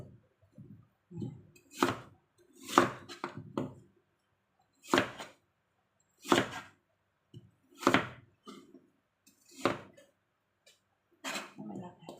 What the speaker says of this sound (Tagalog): Hiwain natin lang ng medyo maliliit.